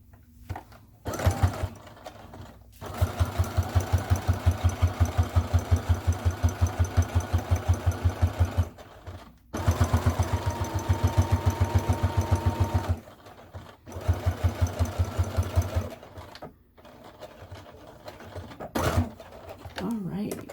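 Sewing machine top stitching a simple wallet, running in long steady bursts of rapid, even thumping stitches with short pauses between, close and loud, with a voice talking at times.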